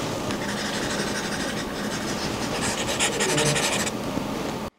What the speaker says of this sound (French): On entend une sorte de bruit de Velleda.